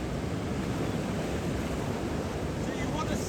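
Surf rolling in at Saltburn beach in small, messy waves, a steady broadband wash of water with wind rumbling over the microphone, continuous and fairly close, no voices.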